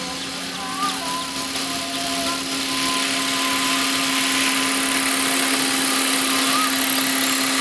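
A Devil 380 remote-controlled helicopter flies with a steady high-pitched motor and rotor whine, loud and continuous and growing slightly stronger, under faint outdoor background noise.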